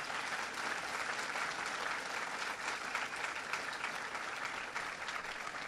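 An audience claps steadily through a speech event with President Obama on American energy. The even, unbroken applause sounds somewhat distant and subdued, with no speech on top.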